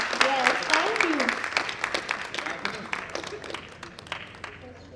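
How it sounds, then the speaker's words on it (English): Audience applause at a sports and exercise medicine conference, a brisk round of clapping from the crowd that gradually thins out, with voices speaking over its opening moments. "A big clap for sir once again."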